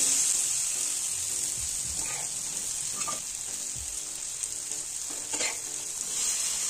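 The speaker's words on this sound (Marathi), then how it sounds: "पाव बघा किती मस्त आपले भाजले" Masala pav bread rolls roasting on a hot pan with spiced masala, a steady close sizzle with a few soft scraping and stirring knocks from a spatula, no voices.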